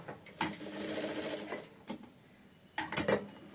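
Sewing machine stitching the lining of a blouse, running in bursts of steady mechanical whirring with short pauses between seams, close and fairly quiet.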